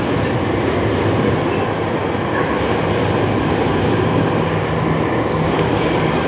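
A Jakarta MRT subway train rolls into the station with a loud, steady rumble and a broadband whoosh, plus faint squeals and rattles, heard close on the platform without speech.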